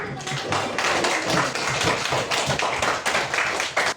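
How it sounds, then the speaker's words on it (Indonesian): A class of children clapping hands together in a classroom reading lesson, a dense, rapid and continuous patter of many claps, loud and close, with scattered voices mixed in. "Oke, tepuk tangan semuanya."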